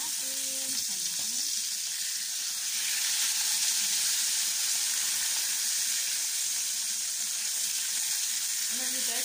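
Sea bass frying in a pan, a steady bright sizzle that holds at an even level throughout, with a brief faint voice near the start.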